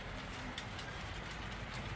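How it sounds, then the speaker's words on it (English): An HO scale model train rolls past a grain elevator on a layout, giving a soft, steady rumble with faint clicking wheels and no talking. "here you see the train traveling past the grain elevator"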